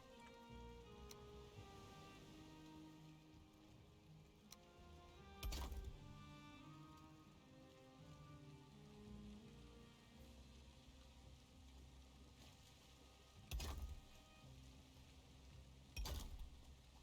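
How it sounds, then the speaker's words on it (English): Steady rain in the video game Valheim, a soft continuous patter with faint ticking drops, broken by a few louder sharp bursts, heard quietly with no talking. "Man, the freaking rain, dude."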